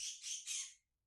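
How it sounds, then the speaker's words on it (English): Backyard birds, with sparrows about, let out a quick run of three harsh, high squawking chirps close by, then fall silent apart from a faint final peep. "My birds are being really loud."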